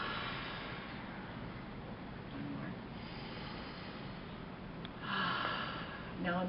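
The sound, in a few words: group taking deep breaths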